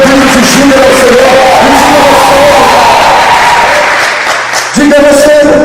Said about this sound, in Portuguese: dá um aplauso ao Senhor, dá um grito de júbilo ao Senhor